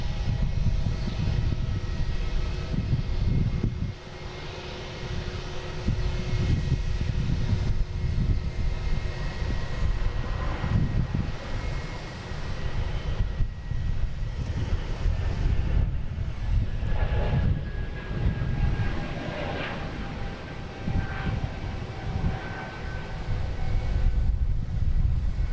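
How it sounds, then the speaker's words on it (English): A JetBlue Airbus A220 jet takes off from Boston Logan, its engine roar a steady broadband rumble with wind buffeting the microphone, holding loud for about twenty-five seconds with faint whining tones drifting across the noise. "next taking off is a JetBlue and A220 heading to JFK"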